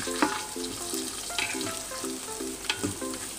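Onions fry in oil heated in a pan for spicy chicken adobo, giving a steady close sizzle with a few sharp crackles and occasional clinks of utensils. No one speaks.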